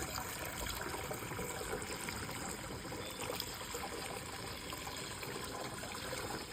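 Water pours steadily into a 15-litre sprayer tank in a farm field, a faint, even rushing fill that runs without a break and without voices.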